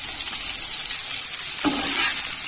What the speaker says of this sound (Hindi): इनको भी हम 10 सेकंड के लिए सौते कर लेंगे